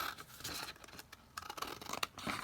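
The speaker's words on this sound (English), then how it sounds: "then you're going to cut up here to form your square" Scissors snip through paper while an envelope is being made, a close run of quick, crisp cuts and rustles with short pauses between them.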